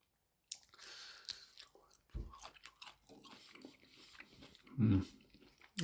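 Raw safou, the African pear, being bitten and chewed close up, soft wet mouth sounds with a louder crunchy bite near the end, quiet overall.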